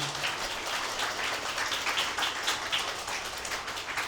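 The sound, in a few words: wedding guests applauding the bride and groom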